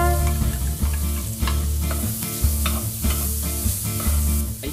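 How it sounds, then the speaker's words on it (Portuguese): Chopped bacon, 300 grams, sizzles and fries in a hot pan while being stirred, with a continuous loud crackle and spitting fat broken by periodic scraping strokes of the spoon, close up and alone. "A panela quente, vamos começar fritando 300 gramas de bacon picado."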